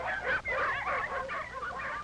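Sled dogs in the cold north bark and yip excitedly in a continuous overlapping chorus of several animals, close and loud, in an old, slightly muffled recording.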